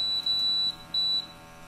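A GMI Gasurveyor 541 gas detector sounds its alarm during a methane bump test: two loud, piercing high-pitched electronic beeps, each lasting about half a second, heard close up with a brief gap between them.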